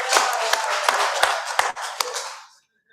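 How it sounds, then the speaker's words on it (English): An audience at a forum gives a short burst of clapping, sharp separate claps about every half second from a few nearby hands, then fading to silence. "can we also clap for the coordinator of the forum?"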